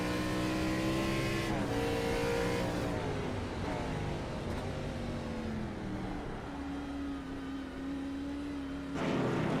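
Race cars at Mid-Ohio roar at full power, engines rising and falling through upshifts and downshifts, one car close and dominant with others droning behind it, at a steady, moderate loudness.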